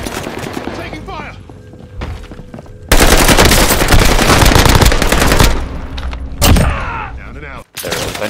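Automatic gunfire rattles in a Call of Duty Warzone match, with a long loud burst of rapid shots followed by shorter bursts and single cracks, while players talk excitedly over it.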